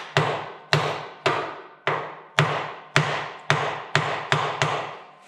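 Hammer tapping on the power lift piston of a John Deere B tractor to loosen it, ten sharp metallic strikes at a steady, slightly quickening rhythm, close and loud with no talk.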